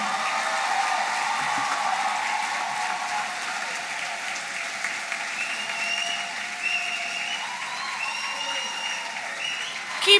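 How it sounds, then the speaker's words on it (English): An audience claps for the graduating class of 2023 at a community college graduation ceremony in a hall, a sustained, even roar of applause lasting about ten seconds with faint crowd murmur and no speech. "a round of applause for the graduates"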